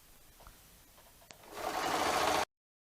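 A sewing machine stitches a baby quilt, starting after a quiet stretch with a faint click and then running in a loud, steady whir for about a second before stopping abruptly.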